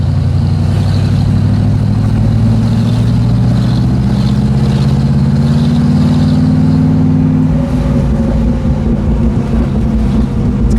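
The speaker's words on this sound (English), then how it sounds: "It's got a good little cackle out of the pipes." A 1979 Pontiac Firebird Trans-Am convertible's exhaust drones loudly and close while driving, a low steady rumble whose pitch shifts as the engine changes speed, with no talking.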